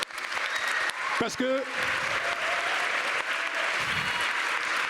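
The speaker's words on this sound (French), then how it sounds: "je vais vous demander aussi un tonnerre d'applaudissements" Loud applause from an audience at a UNESCO campus event on water, dense clapping throughout with a voice speaking briefly over it early on.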